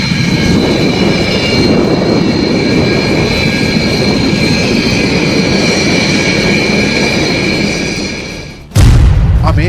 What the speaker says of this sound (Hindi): यहाँ दुनिया भर के लड़ाकू विमान अपने बाहुबल का प्रदर्शन कर रहे हैं